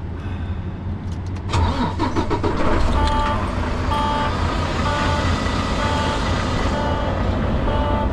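A large truck with air brakes starts up close by during a layover in Vancouver: a cranking whir, then the engine catches and settles into a loud, steady idle while a warning tone beeps repeatedly over it.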